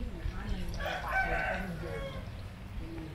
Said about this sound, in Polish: Koguty w Bangkoku.